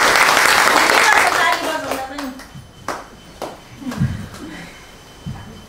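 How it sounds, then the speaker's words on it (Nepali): A room of people, children among them, claps loudly for a few seconds before the applause thins out into scattered claps and speech. "ताली बजाऊ।"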